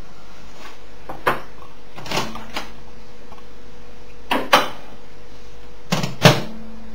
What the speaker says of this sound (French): on va faire fondre 925 g de beurre au micro-ondes.